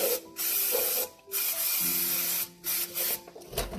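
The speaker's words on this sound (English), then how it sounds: "I'm just going to clean it down with a brake cleaner" Brake cleaner hisses out in short repeated bursts, about six sprays of uneven length, up close under a VW MK2 Jetta.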